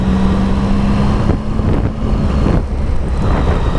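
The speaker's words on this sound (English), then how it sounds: "Oh, that triple engine's beautiful." Triumph Sprint 1050 triple-engine motorcycle on the move, a loud engine drone buried under heavy wind rush, steady and continuous with brief dips, no talking.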